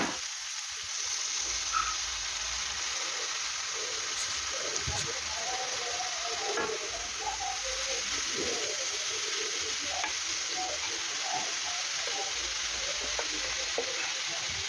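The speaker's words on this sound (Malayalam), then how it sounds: "ഈ സമയത്ത് അരിഞ്ഞു വെച്ച ചീരയും കൂടി അതിലേക്ക് ഇടുക" Chopped ponnankanni greens land on sautéed onions in a hot pan and set off a steady crackling sizzle with stirring scrapes, fairly close and continuing throughout, with no clear talking.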